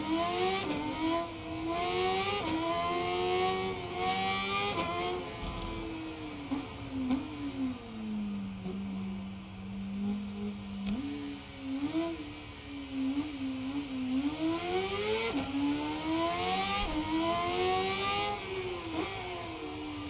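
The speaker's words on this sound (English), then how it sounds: "the engine's quiet." A 1000cc sports motorcycle engine racing in the Ride 5 video game, revving hard and shifting through gears in repeated rising sweeps, loud and close, with a brief easing-off midway before climbing again.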